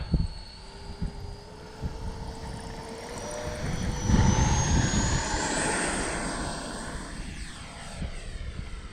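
A FlyFans L-39 64mm EDF RC jet whines up to takeoff power and flies past, its ducted-fan tone rising in pitch and swelling to a loud roar before fading and shifting as it banks away overhead.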